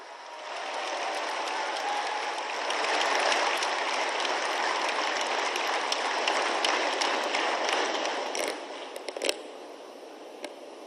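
Steady, dense applause from a large crowd at a ceremony welcoming Prime Minister Narendra Modi at GIFT City, Gujarat, holding level for about eight seconds before thinning into a few scattered claps.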